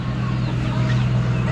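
Chickens cluck at an animal auction, a brief burst of close fowl calls over a steady low hum and crowd noise, with a voice speaking.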